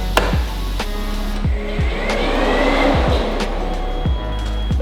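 Mazda RX-7 FD with its wheels spinning, giving a loud close engine hum broken by repeated sharp gear or rev shifts at a rough rhythm, with no talk over it.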